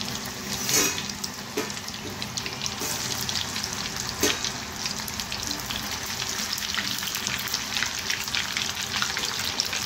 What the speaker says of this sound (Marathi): आता आपण हे डीप फ्राय करून घेऊया।